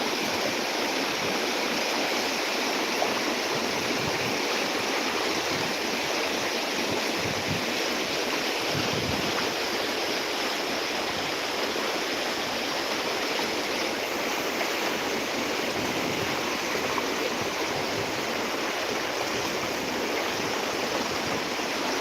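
Floodwater rushes through Kase village during the 2025 flood, a loud, dense, unbroken roar of torrential water that stays steady throughout, with no voices.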